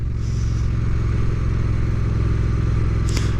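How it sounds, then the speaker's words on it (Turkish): A steady, loud Triumph Bonneville Speed Twin 900 motorcycle exhaust rumbles continuously at idle-to-revving pitch, close by, with a brief clatter near the end. "Sadece egzoz sesini dinlemek istedim."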